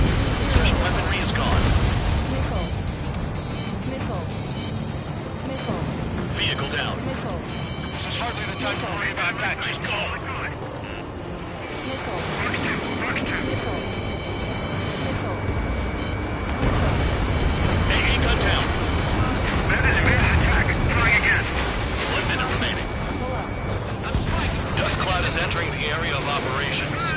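Jet aircraft and missiles in the combat flight game Ace Combat 7 fill a dense, continuous mix of roaring engines, rumbling blasts and electronic tones, with radio voices talking over the action.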